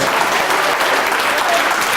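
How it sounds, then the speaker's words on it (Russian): Steady, dense applause from a large seminar audience fills the room, loud and continuous throughout with no pauses or voices standing out. "Don't stop clapping."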